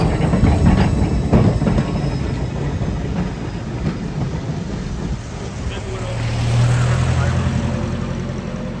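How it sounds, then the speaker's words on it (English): A 1927 tram, number 159, runs at a transport museum with a loud rumbling, rattling drive and steady mechanical hum, rising slightly toward the end; voices are faint underneath. "we're on the tram 159."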